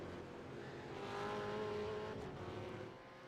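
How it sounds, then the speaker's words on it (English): Race car engine in the iRacing simulator at Watkins Glen International, a steady tonal drone that swells briefly and then drops in pitch and level as the car slows. "You heard him decelerating"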